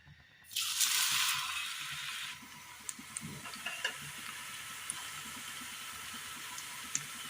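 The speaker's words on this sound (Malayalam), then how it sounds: "എണ്ണ നല്ലതുപോലെ ചൂടായി കിട്ടിയിട്ടുണ്ട് എണ്ണയിലേക്ക് ഓരോന്നായിട്ട് ഇട്ട് കൊടുക്കാം" Kerala-style snacks slid one by one into hot oil for deep-frying, setting off a loud burst of bubbling sizzle that eases into a steady crackle with faint scattered pops, no voices.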